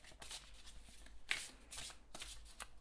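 Oracle deck cards shuffled by hand, a series of close riffling bursts with brief pauses between them, fairly quiet and with no talking.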